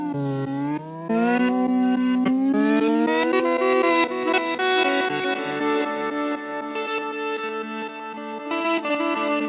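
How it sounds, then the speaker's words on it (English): Electric guitar runs through a Pladask Elektrisk Fabrikat pedal set to a reversing octave effect, sustained distorted tones gliding and warbling with a shimmering, chorus-like swirl, loud and continuous. "so that sounds like it's not changing the octave, but it's reversing it"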